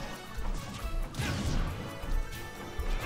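Side smash attacks landing in Super Smash Bros. Ultimate during an amiibo tournament match, two heavy impact crashes with whooshing hits amid game effects.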